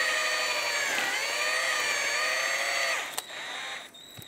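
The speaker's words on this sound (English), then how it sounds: "We use our bore brush and pretty much go in and out." Bore brush driven in and out of brake caliper slider pin bores on a 2009-2015 Honda Pilot, a steady high whirring rotary drone that holds for about three seconds, then falters and trails off into brief scraping.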